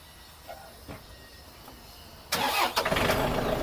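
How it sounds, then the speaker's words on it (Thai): A 51-horsepower farm tractor from 2021–2022 cranks and starts after a quiet idle background, its engine catching suddenly and running loud and close. "สตาร์ทติดง่ายค่ะ"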